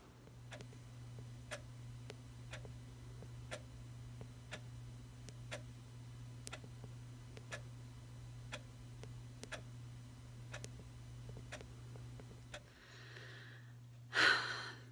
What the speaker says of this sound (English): That, my friends, is the sound of a clock. The clock ticking away